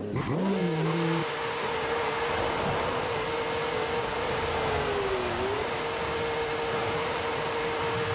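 A Formula Drift car in Forza Horizon 5 gives a few sharp blips at the start, then settles into a loud, sustained high rev held steadily, with a slight dip and recovery late on.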